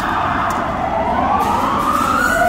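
A video game police siren wails with a rising tone over a steady engine rumble, continuous and fairly loud.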